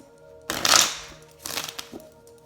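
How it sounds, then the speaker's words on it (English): A deck of tarot cards being shuffled close up: a loud riffling burst followed by two shorter, softer shuffles. "That was a bum shuffle. Let's do another one."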